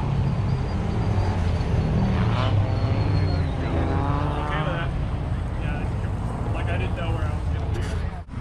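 Four-wheel drive race cars run on a rough track, engines droning continuously and loudly for the whole stretch, with passing revs rising and falling under a voice talking.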